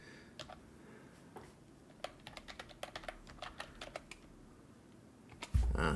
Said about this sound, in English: What if I just type it in?